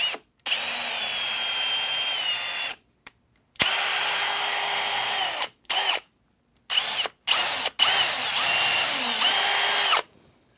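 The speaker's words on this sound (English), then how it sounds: "Yeah, seems to drill fine either way." A power drill with a newly sharpened bit whines loudly in repeated bursts, starting and stopping several times with short silent gaps, some runs long and some brief.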